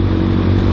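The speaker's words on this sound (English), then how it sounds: "Still has the stock exhaust on it. Doesn't sound bad, but it's definitely not loud enough." A 2015 Kawasaki ZX-6R 30th Anniversary ABS sport bike engine with its stock exhaust running at a steady idle, a close, even mechanical hum for a brief moment.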